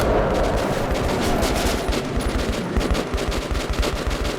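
Sustained, loud automatic gunfire in Metro 2033 Redux, a dense, unbroken rattle of rapid shots close by, running throughout without pause.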